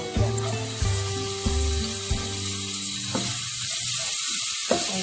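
Minced garlic and ginger sizzle in a hot frying pan, a steady crackling hiss broken by a few sharp clinks and scrapes of a utensil against the pan.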